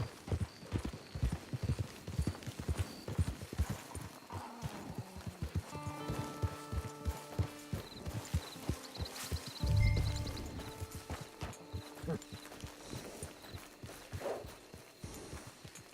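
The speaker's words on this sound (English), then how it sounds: "It's your horse." Horse hooves clip-clop in a steady walking rhythm in the Red Dead Redemption 2 video game, close and distinct, joined midway by brief musical tones and a low thump.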